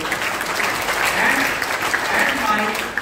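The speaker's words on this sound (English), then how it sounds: "Please give a huge round of applause again." A crowd at a school investiture and oath-taking ceremony for student prefects claps loudly and continuously, a dense, even wash of applause that holds steady throughout.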